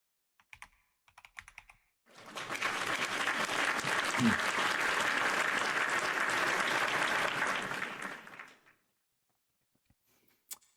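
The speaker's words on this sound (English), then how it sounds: "Exclamation point claps for Rocky." Applause sound effect played during a livestream: a burst of dense, steady clapping runs for about six seconds, loud and close, framed by a few light clicks before and after.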